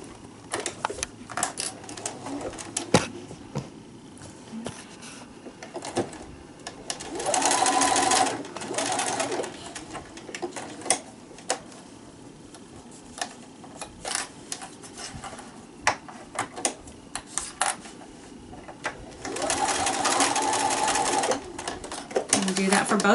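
A sewing machine bastes zipper handles onto a fabric wine gift bag in two sustained whirring runs, loud and close, with clicks and handling noises between them and a voice talking at times.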